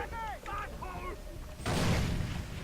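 A voice speaks briefly, then a bomb goes off in the Far Cry 3 video game, a sudden broad rumbling blast that fills the rest of the moment and stays loud.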